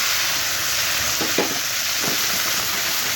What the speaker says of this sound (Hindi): कलेजी भून लेंगे।